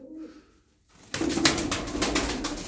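Tumbler pigeons coo close by, a soft throaty burst rising after a quiet gap and carrying on with repeated pulsing notes.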